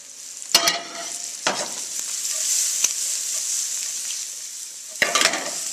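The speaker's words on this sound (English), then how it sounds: "We're going to add our vegetables to our sausage and crawfish because we want to reuse this pan." Vegetables drop into a pan already holding sausage and crawfish and fry with a bright, steady sizzle. Several loud stirring scrapes and clatters burst out over it, near the start and again toward the end.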